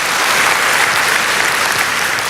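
Church congregation applauding during a sermon, steady dense clapping filling the whole stretch at close range, loud and continuous with no voices over it.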